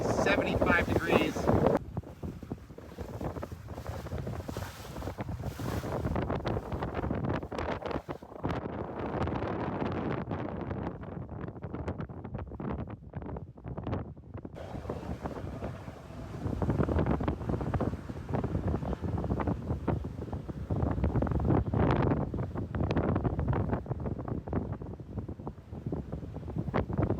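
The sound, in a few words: wind on a sailboat sailing into Nantucket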